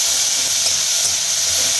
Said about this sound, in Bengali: এবার মশলাটাকে কষাবো ভালো মতন আমরা।